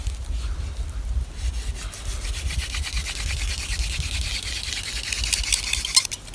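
A wooden spindle is spun by hand in a hand drill friction fire, producing a dry, continuous rubbing and scraping of wood on wood that grows slightly brighter and busier toward the end, up close with no talking.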